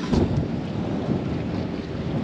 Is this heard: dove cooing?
no